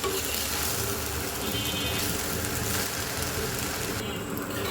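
Rice for white pulao fries in a pan, giving a steady, loud, close sizzle with crackling and occasional stirring throughout.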